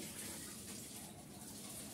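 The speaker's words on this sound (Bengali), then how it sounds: "কড়াইটাকে পরিষ্কার করে ধুয়ে নিচ্ছি" Water gushes steadily over a kadai (wok) as it is rinsed clean, a continuous close splashing rush without pause.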